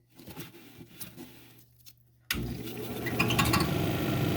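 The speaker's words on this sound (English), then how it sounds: "So let's grind it down to the line." A dumortierite cabochon is ground on a lapidary wheel. A quiet wheel hum with faint contact ticks is followed by a sudden louder, steady grinding whir that continues to the end.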